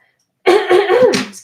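A woman coughs a few times in quick, harsh, close bursts during an indoor coloring session with Prismacolor pencils, the coughs loud and hoarse with a voiced edge.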